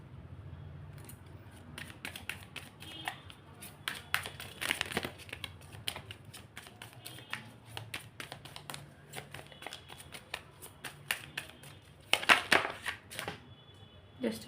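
Tarot cards are handled and shuffled at close range in a quiet room, with a steady run of soft papery flicks and crinkles and a louder burst of quick riffling near the end.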